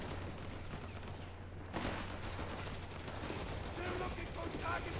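Artillery barrage in Company of Heroes 3 on PlayStation 5: a continuous roar of gunfire and distant booms rumbles on, with a sharp impact partway through, and a voice talks over the din.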